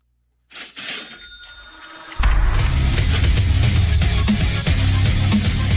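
Telephone bells ring with a sharp metallic trill, followed by a dense, loud burst of layered ringing and music that continues steadily to the end.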